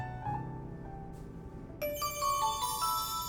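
A phone rings in the video game Pokemon Legends: Z-A, a bright electronic ringtone with a repeating melodic pattern that starts partway through over quiet game music.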